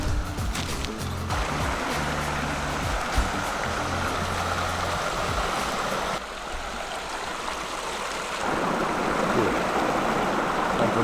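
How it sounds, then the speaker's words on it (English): Steady broadband rush of flowing water from a creek running nearby in Northern Thailand, continuous throughout with a slight dip midway and some low rumbling early on. "Been sleeping to this sound of the creek all night"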